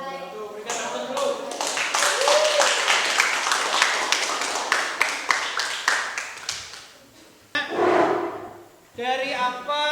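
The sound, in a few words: classroom applause after a presentation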